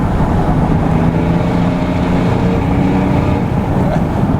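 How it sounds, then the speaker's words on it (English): A straight-piped Mercedes turbo diesel drives along in a steady, loud droning rumble heavily mixed with wind noise, with no distinct turbo spool standing out. "you can hear the turbo a lot better"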